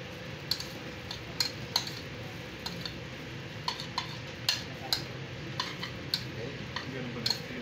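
Metal utensil clinks and taps against a pan as food is mixed at a street food demo in Malabon, irregular light clatters over a steady background hum and murmur.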